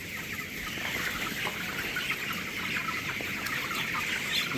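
Nineteen-day-old broiler cockerels in a poultry shed keep up a continuous, crowded chorus of clucks and chirps at an even level, with no voices over it.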